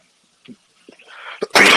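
After a few soft breaths and small noises, one loud, sharp sneeze bursts out close by at the very end.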